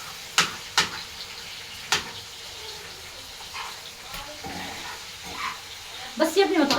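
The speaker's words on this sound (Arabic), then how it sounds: "هقلبها بس كده عشان احط لها التومه بتاعتها" Alexandrian liver sizzles in a pan as it is stirred and flipped, with sharp scraping clatters of the utensil against the metal over a soft frying hiss; someone speaks between the stirs.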